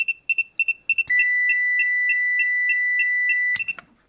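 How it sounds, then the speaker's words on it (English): A series of quick electronic chirps from an Ancel PB500 circuit tester gives way to a single steady high-pitched beep that holds for over two seconds, then cuts off abruptly. "this continuous beep is coming from this beeper"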